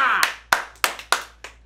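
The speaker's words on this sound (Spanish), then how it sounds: "Aplausos." A few people clapping in a small room during a casual music reaction session, about six sharp, separate claps in a loose, uneven rhythm, close and fairly loud, with a voice briefly heard at the start.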